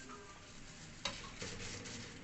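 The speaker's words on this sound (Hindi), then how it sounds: "थोड़ा थोड़ा सा इनको फ्राई करना है ताकि ये चीज़ें करवाहट ना दें" Panjiri ingredients, including amarkas and belgiri, fry gently in ghee in a pan, giving a steady soft sizzle with one sharp spoon-against-pan clack partway through and light stirring scrapes after, with no talk.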